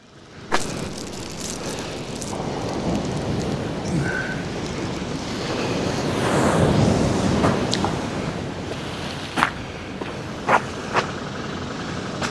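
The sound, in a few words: sea surf waves on the beach at Whitby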